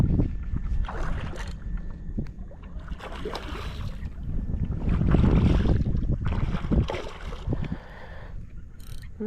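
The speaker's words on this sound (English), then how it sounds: "I'm trying to keep up my trolling motor. I don't want to turn it off." An electric trolling motor drives a small fishing boat on open water while fishing for reds, running as a steady hum under heavy gusting wind buffeting the microphone.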